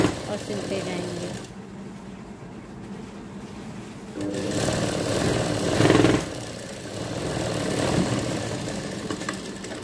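A sewing machine runs steadily as it stitches stretched elastic onto a baby frock, with a faint quiet stretch early on and then a louder, continuous whirring hum.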